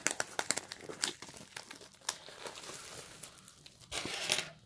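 Very thin metallic paper handled and crinkled up close, with a quick run of sharp crackles at first, then softer rustling, and a denser crinkling burst near the end.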